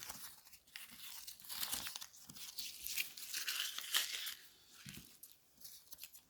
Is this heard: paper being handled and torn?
yes